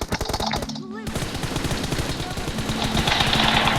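Rapid automatic gunfire rattles continuously in a video game, dense and loud bursts running throughout with a brief shouted voice mixed in near the start.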